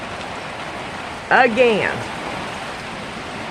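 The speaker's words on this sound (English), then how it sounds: "It's dark out here. And it is pouring the rain." Heavy rain pours outdoors in the dark, a steady, loud hiss that fills the whole stretch, and a voice briefly speaks over it.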